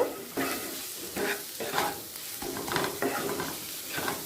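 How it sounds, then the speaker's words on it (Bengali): A spice mixture with cumin powder and sugar stirred in a hot pan for doi katla, with loud, close, rhythmic scraping strokes about every half second over a steady frying sizzle. "দিয়ে দিচ্ছি হাফ চামচ জিরে গুঁড়ো এক চামচ চিনি চিনির পরিমাণটা আপনারা আপনাদের পছন্দ মতো দেবেন দিয়ে ভালো করে মিশিয়ে নেব"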